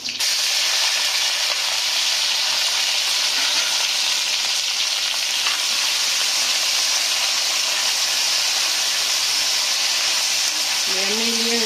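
Taro root frying in hot oil with curry leaves in a pan for a Tamil-style poriyal, a loud, steady sizzle and hiss that runs unbroken throughout, with a brief voice right at the end.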